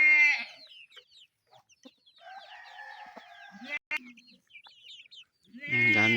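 Chickens on a farm in a rural Philippine province cluck in scattered short calls, mid-distance and fairly faint, with turkeys and goats about and a louder animal call or voice at the end.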